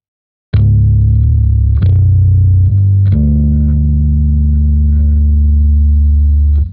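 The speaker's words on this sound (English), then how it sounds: "this is like a power chord here. And it sounds like he's holding them, so he's letting both notes ring out" A bass power chord from a song, played loud and distorted with a chorus-like effect: three picked strikes with both notes held and ringing, the last sustaining for several seconds before cutting off.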